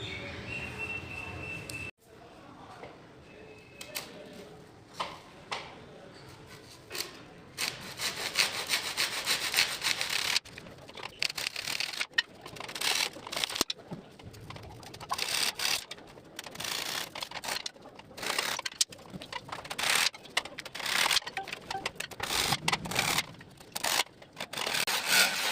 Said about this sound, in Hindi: कटिंग के लिए ज़रूरत पड़ेगी मुझे एक अदद आरी की।